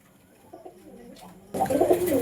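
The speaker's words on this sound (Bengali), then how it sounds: "এই দুই কবুতর বাইরে গেন, এগুলো তো বাইরের লফটের মনে হয়।" Giribaj pigeons cooing in a farm loft at night, soft low coos at first, then a louder close burst of cooing and fluttering.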